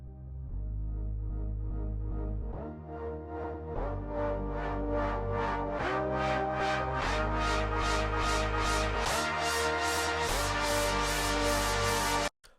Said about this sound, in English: LFO Synth sounds like this.